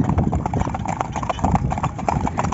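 Several horses' hooves clip-clop on the road during a group horse ride with carts nearby, a loud, close, steady rhythm of overlapping hoofbeats.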